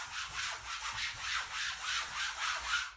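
A small duster rubs briskly back and forth over a surface, producing steady rhythmic scratchy swishes, close and alone, about ten strokes in a few seconds.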